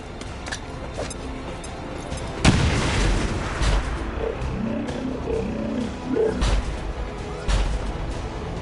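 A frag grenade detonates in the tactical game XCOM 2 as a sudden loud boom, followed by rumbling debris, crackling and further thuds over a steady low background, with no voices.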